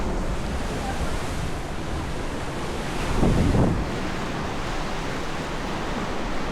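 Ocean surf at high tide on a Pagudpud beach in Ilocos Norte: a continuous broad wash of breaking waves with wind buffeting the microphone, a slightly louder surge rolling in partway through.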